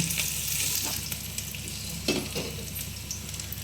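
Chopped onion hits a hot pan in a shrimp dish, sizzling loudly and close with brief scraping stirs over a continuous hiss.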